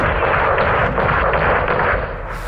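Heavy gunfire from an AC-130 gunship in the Call of Duty Modern Warfare 2 campaign, a loud, dense rumbling barrage of booming shots that stays sustained and close before easing off near the end.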